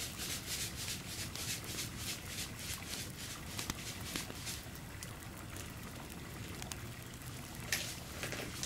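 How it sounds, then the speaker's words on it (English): Liquid pours into a container with a steady, soft trickle throughout, close and quiet, with faint handling clicks during a pampering session; no speech. "Pour 2 cups in there"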